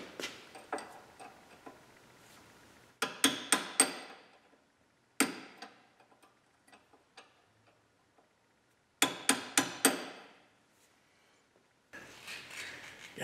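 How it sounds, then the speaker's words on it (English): Rapid bursts of sharp metallic taps from a wrench being pounded onto a rusty track bar nut on a Jeep Cherokee, coming in three or four quick clusters separated by quieter pauses, close and fairly loud with no talking. "we got our wrench pounded on there"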